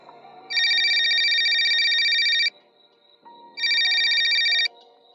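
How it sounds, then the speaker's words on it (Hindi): A mobile phone rings at night in two long electronic bursts separated by a short pause, loud and close, over faint background noise. "कि तभी उसका फोन बजा।"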